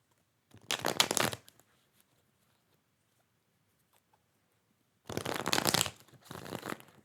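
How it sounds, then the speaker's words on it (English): Tarot cards being shuffled in three quiet, close riffling bursts, one early and two near the end, separated by a long silent gap. "1 more shuffle"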